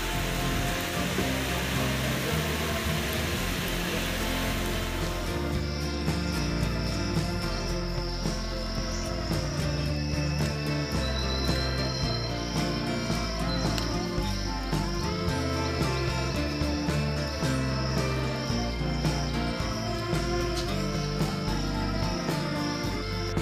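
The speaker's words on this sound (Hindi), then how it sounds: "यहाँ पर दोस्तों काफ़ी बारिश पड़ती हुई नज़र आ रही है" Heavy rain pours steadily beside a bridge over the Chambal river, a dense continuous hiss recorded from shelter underneath it, loud and unbroken throughout with no talking.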